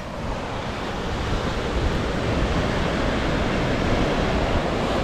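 Ocean surf at the sea in Japan, a continuous roar of breaking waves with a broad wash of wind noise on the microphone, steady and fairly loud, with no voices.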